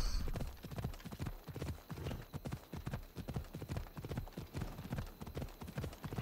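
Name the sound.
horse hooves clip-clopping on path in Assassin's Creed video game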